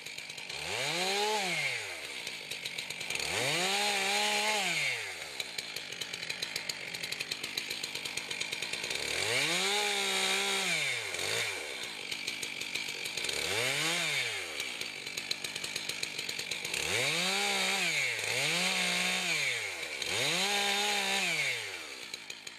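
Chainsaw cutting wood, loud bursts of engine revving as the saw bites in, with about seven cuts rising and falling through the clip over a steady idle, no voices heard.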